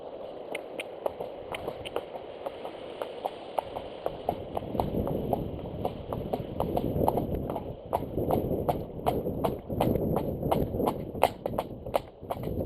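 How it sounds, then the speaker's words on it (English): A cob horse trotting, steady rhythmic hoof clip-clops close by for the whole stretch, quickening slightly midway, with faint high bird chirps above. "Having a little trot."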